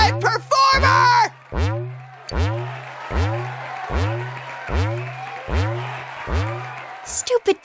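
A crowd cheers at a concert in a video game during crowd surfing, with a rhythmic, looping chant of hearty shouts repeating about every second, loud and close, with voices above it at the start and end.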